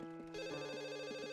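Telephone ringing in The Sims 1 life-simulation game, a steady electronic ring with a repeating pulsed rhythm, clear and close, playing alone without talk.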